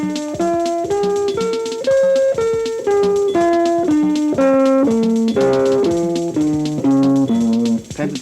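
Guitar plays a minor pentatonic scale one note at a time, in a steady run up and back down, clear and close, with no talking.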